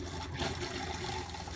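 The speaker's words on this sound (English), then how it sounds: "Hopefully we see pink coming out of here now when I turn on the cold water." Cold water running steadily from a faucet in a 2018 Rockwood Roo 183 travel trailer during winterizing, a continuous close hiss of flow with no talk over it.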